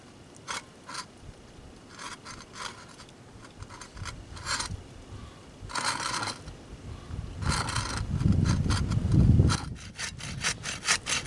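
A hand saw cuts through wood during a bucksaw build, with bursts of rasping back-and-forth strokes that grow heavier and louder toward the end, close up and with no talking.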